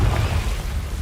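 In a Harry Potter video game, a Confringo blasting spell detonates in a loud, dense low boom. The single rumbling blast fills the short moment with no voice over it.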